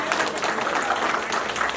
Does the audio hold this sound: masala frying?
no